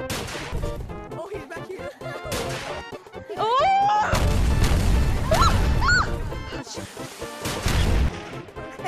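Grenade blasts and chaotic impacts in the video game Monkey Labs: sharp bursts and crashes in uneven clusters, mixed with whistling, sliding game effects and a deep booming stretch midway, all fairly loud.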